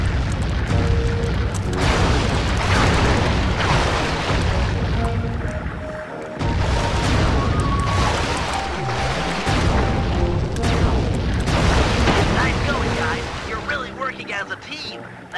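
Loud, booming cannon blasts from Sly 3: Honor Among Thieves roll out one after another over dense rumbling and crashing effects.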